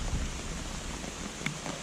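Steady rain falling around a carp fishing lake, a soft continuous patter of drops on surfaces with a few sharper taps, quiet and even with no voices.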